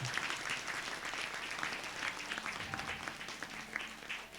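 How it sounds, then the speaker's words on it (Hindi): A church congregation at a Sunday service claps loudly and steadily, a dense wash of applause from many hands with no pause. "ताली बजाएंगे जोर से, हालेलुया"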